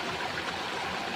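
Clear water of a jungle river streams steadily over mossy rocks near a waterfall, a continuous soft rushing wash with no breaks.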